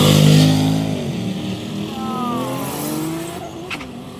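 A Pontiac gasser drag car, the 240, launches in the wet with heavy wheel spin, its loud engine roar sweeping up in pitch over squealing tires, then easing into a steady high drone as the car pulls away.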